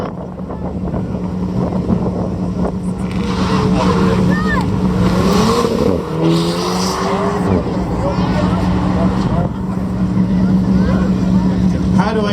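A 300 bhp rear mid-engined, rear-wheel-drive sports car runs on a hill climb, its engine a loud sustained drone that rises and falls through gear changes, with a voice talking over it.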